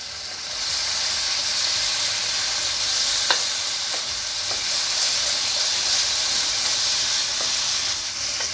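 Red tofu fries in a hot pan, giving a steady, close sizzle with a dense hiss and faint scattered pops, continuous throughout with no voices.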